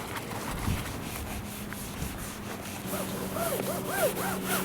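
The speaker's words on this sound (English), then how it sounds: "you're not merely painting this on, you really got to scrub it in" A scrub pad rubs primer into TPO roofing membrane during a roof install, making a steady close-up rasping and scuffing. Faint high chirps come in toward the end.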